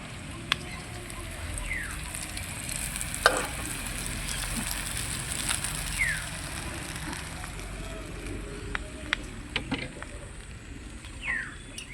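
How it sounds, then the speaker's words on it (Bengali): Soaked poha and fried peanuts sizzle and crackle in a pan with lightly fried onions. A steady frying hiss carries on throughout, with a few louder crackles and stirring clicks. "এখন ভেজে রাখা বাদামগুলোকে দিয়ে দিচ্ছি আর জল ঝরিয়ে রাখা এই পোহাগুলোকে দিয়ে দিচ্ছি"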